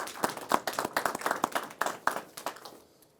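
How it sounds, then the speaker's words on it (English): A press-conference audience gives a round of applause for the staff of the Jacksonville ballpark, a dense burst of many hands clapping that fades out toward the end. "I want to give them a round of applause"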